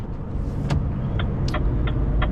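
A car pulls away onto an asphalt road, its engine and tyre rumble steady and close, with a few light clicks and ticks scattered over the drone.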